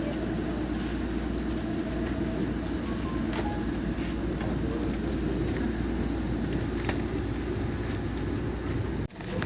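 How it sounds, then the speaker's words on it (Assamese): A Vande Bharat Express train pulls away slowly, giving a steady low rumble and hum inside the carriage with faint rattles, continuous and even throughout. "লাহেকৈ আমাৰ ট্ৰেইনখন যাবলৈ আৰম্ভ কৰিছে"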